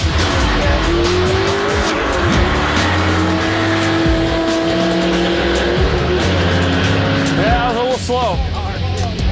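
Electric Datsun 1200 drag car running down a drag strip, a loud continuous drone with rising whine and tire noise, steady throughout with a brief squealing sweep near the end.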